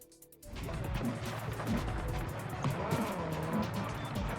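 A car is driven at close range with a steady engine drone and road rumble that holds throughout, with a few clicks and knocks over the noise.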